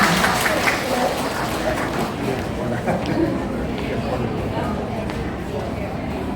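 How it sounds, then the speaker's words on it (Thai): Audience clapping for a group of honoured women at a ceremony, a sustained spread of applause at moderate loudness with crowd murmur and talk mixed underneath. "ขอเสียงปรบมือให้กับหญิงเก่งทั้ง23 ท่านด้วยค่ะ"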